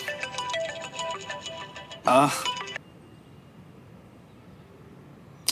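A mobile phone ringtone plays an incoming-call melody, a bright repeating tone pattern that cuts off abruptly after about three seconds, followed by near silence.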